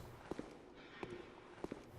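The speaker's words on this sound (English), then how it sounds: "all I hear is the echo of my own footsteps" Sparse footsteps echoing in a quiet Bloodborne game space, three pairs of soft, reverberant steps spaced far apart against a faint low ambient hum.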